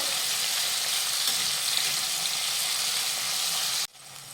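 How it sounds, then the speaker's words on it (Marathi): Finely chopped medium tomato sautéing in a hot pan for a sattvic no-onion, no-garlic vegetable dish, giving a loud, steady broadband sizzle that cuts off abruptly near the end, leaving quieter hiss. "तो घालूयात परतून घेऊयात"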